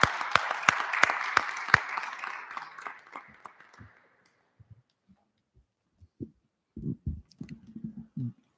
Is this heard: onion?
no